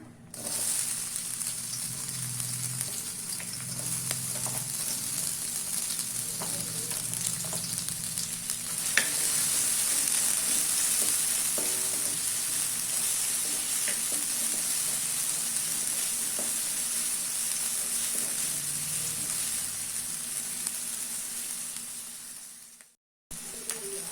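Onions fry in about two spoons of oil in a kadai, giving a steady, close sizzle with light crackling and occasional stirring that goes on for over twenty seconds, with no talking.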